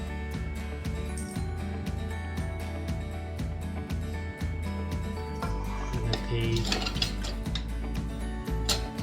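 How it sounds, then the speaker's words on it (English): Miso is worked into aquafaba, the chickpea cooking liquid, with steady quick ticking and clinking of a utensil against a bowl, close up, over continuous low background music. "2 tablespoons of miso, and we're gonna kind of work it into our aquafaba"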